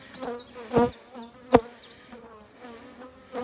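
Bees buzz close by, a wavering drone that rises and falls, broken by a couple of sharp louder bursts as they pass near.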